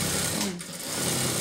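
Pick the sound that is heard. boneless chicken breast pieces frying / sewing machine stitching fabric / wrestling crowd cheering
sewing machine stitching fabric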